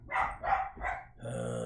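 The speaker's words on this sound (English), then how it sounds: "Dogs." Dogs bark in the game Surviving Mars, giving three quick close barks in a steady rhythm followed by a drawn-out whine or growl.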